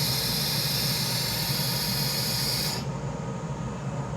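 Pressurized air hisses continuously at tool pressure during a laser engraver's dry run with the lid open, a loud broadband rush whose brightest upper layer cuts off abruptly near the end while a softer hiss carries on.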